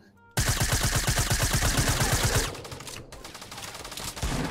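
Rapid automatic gunfire in Fortnite Battle Royale, a loud burst of evenly spaced shots for about two seconds, then quieter scattered shots and a final louder burst.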